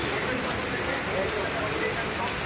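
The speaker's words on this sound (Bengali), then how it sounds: "আর কত সুন্দর রিমঝিম বৃষ্টি পড়ছে।" Gentle rain falls steadily on a still midday street with shuttered shops, a soft continuous patter at even loudness with no other sounds standing out.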